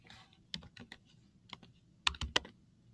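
Keystrokes on a computer keyboard, typed while entering a command in R: scattered sharp clicks with a quick burst of several near the end, close and clear with no talking.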